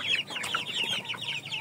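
Shamo and aseel chickens in a coop give repeated clucks and short calls in close succession, moderately loud, with no people talking.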